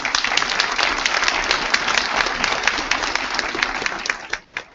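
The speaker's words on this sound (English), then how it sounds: "So can we have a round of applause for Bishop Calcaño, please?" Sustained audience applause fills a conference hall welcoming a bishop to the stage at an immigrant youth empowerment conference, dense and steady before tapering off at the very end.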